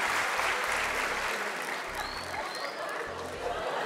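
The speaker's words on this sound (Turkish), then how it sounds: "Alkışlarla alıyoruz kardeşimizi." A studio audience at a Turkish televised talent show applauds, a dense, loud wash of clapping with some crowd noise that carries on steadily throughout.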